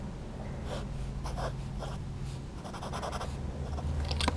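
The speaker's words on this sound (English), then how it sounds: "the soothing sound of a Sailor nib on paper" Sailor Pro Gear Slim fountain pen nib scratching across paper in soft, irregular strokes close up, over a steady low background hum.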